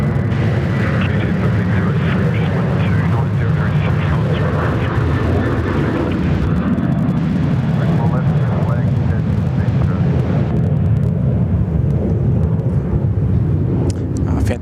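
A Qantas Boeing 717 jet on final approach to runway 34 left at Sydney Airport, a steady loud engine roar and rush close by throughout, with wind buffeting the microphone.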